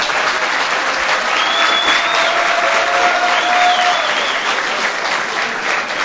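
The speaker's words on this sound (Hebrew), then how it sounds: "כן, אתם מוחאים כפיים" Sustained applause from a lecture audience in Rishon LeZion, dense steady clapping throughout at close range with no speech over it.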